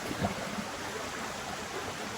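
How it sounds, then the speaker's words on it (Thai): A forest stream rushes steadily in a continuous, even hiss of flowing water, fairly loud and close, with nothing else standing out. "เพราะว่าเสียงน้ำไหลดังนะคะทุกคน"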